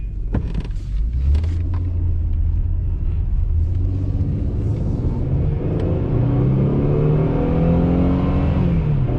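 A 2005 fourth-generation Ford Taurus is accelerating on a four-lane road, heard as a loud, steady low engine rumble whose pitch climbs as it gathers speed.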